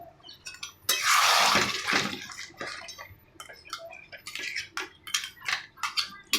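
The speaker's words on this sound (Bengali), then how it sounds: "হালকা করে একটু জল দিয়ে দেবো এর মধ্যে এটাকে।" Water pours into a pan of cooking curry in one loud splashing rush lasting about a second, followed by lighter bubbling, spattering and clinks from the pan.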